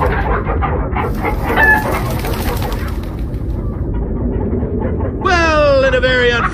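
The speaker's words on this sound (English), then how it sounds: "it appears we are in the land of chickens that are indeed the size of zombies." Giant chickens clucking in the video game Minecraft Story Mode, with choppy clucks under a man's speech and game noise, ending in a loud, rising squawk near the close.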